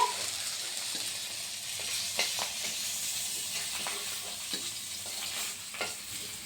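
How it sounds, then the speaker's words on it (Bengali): Foli fish fries in a pan, a close, steady sizzle of hot oil with scattered scrapes and taps as pieces are turned. "একটু উল্টে পাল্টে একটু লাল হলেই নামিয়ে নিচ্ছি"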